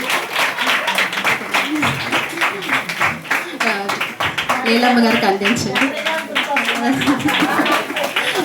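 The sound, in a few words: congregation clapping hands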